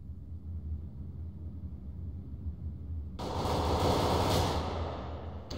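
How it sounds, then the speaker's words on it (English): A flashbang grenade goes off in the CS:GO video game, a sudden loud broadband burst that roars for about two seconds before fading, following a low, steady rumble of game ambience. "Deploying flashbang."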